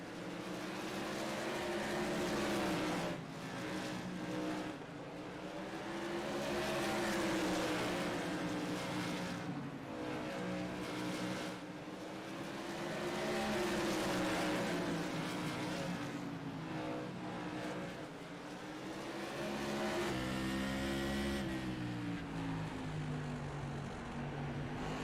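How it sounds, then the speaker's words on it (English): Modified Tour race cars roar around the Southern National oval in a continuous loud engine drone that swells and fades as the pack laps, with no commentary over it. "Brad Carpenter and Keith Jeffrey, the last cars on the lead lap"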